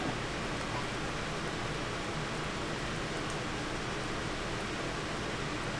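Steady rain hisses in the video game Minecraft (TerraFirmaCraft), an even, dense wash of falling drops that never pauses, moderately loud with no voices.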